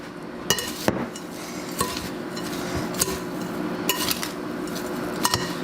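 A seafood mixture stirred in a bowl: a spoon scrapes and clinks against the bowl in steady strokes, close and clear, with sharper knocks roughly every second and no talk.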